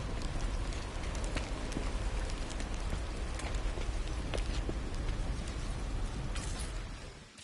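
Steady rain falls on a planet in No Man's Sky, a dense hiss of drops pattering on surfaces with scattered sharper ticks, continuous and close until it fades at the end.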